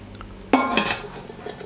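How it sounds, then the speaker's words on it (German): Lid set onto a Schulte Ufer pressure cooker: one sharp metallic clank, followed by a brief ringing rattle, close and otherwise quiet. "Deckel drauf, verschließen"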